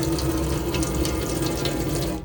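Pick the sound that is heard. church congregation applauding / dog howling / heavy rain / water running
water running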